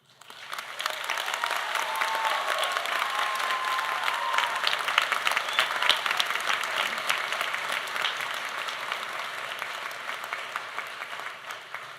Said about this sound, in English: join in one more round of applause for today's graduates